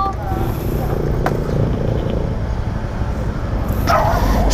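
A dog barks during a motorcycle taxi ride, its sharp calls mixed into loud, continuous road and engine noise while people talk nearby.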